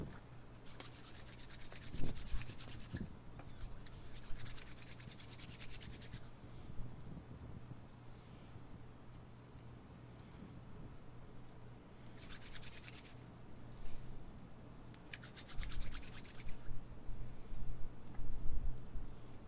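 Two-part epoxy putty is kneaded by hand like clay, giving soft, close rubbing and squishing with several longer scratchy stretches, steady and moderately quiet with no talk.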